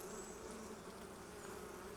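Honeybees buzz at an open hive in a soft, continuous hum, faint and steady with a few louder passes of individual bees.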